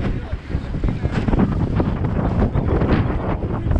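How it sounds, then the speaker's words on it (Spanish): Strong wind buffets the microphone on a small fishing boat, a loud, rough, continuous roar with gusting rumble and choppy wave noise around the hull. "Pero ya el aire se puso muy fuerte."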